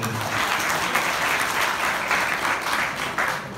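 Sustained, loud applause from a seated audience at an industry-academia conclave at an engineering institute, dense clapping filling the hall steadily without a break and without speech.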